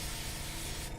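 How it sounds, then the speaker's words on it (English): An airbrush sprays paint on a miniature hill giant figure, a continuous broad hiss filling the whole moment at close range, steady and unbroken, cutting off sharply near the end. "Airbrush!"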